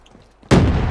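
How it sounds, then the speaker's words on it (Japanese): The War Machine grenade launcher in Black Ops 3 fires with a sudden loud blast after a near-silent moment, and the noise stays dense and roaring to the end. "じゃあウォーマシンで、ちょっとウォーマシン使ってやる。"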